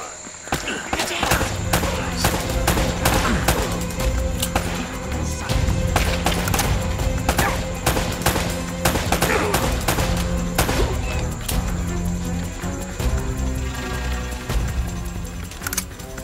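Sustained firefight in Uncharted: Drake's Fortune, rapid volleys of gunshots crackling over a steady droning music bed, continuous and fairly close throughout.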